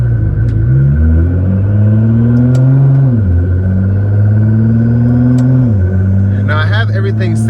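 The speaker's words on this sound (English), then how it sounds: "very capable as well with this twin turbo V6. Love the sound, love the tune." Nissan GT-R with a twin-turbo V6, modified to about 1300 hp, its engine droning loudly and steadily close by, pitch rising and falling through a few gentle revs. A voice talks over it throughout.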